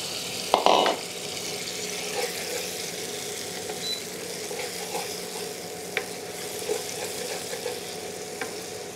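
Masala for a dry jackfruit sabzi sizzles softly in a pan, a low continuous fry with a sharp clatter early on and a few light stirring knocks scattered through.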